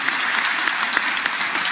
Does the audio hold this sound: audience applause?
yes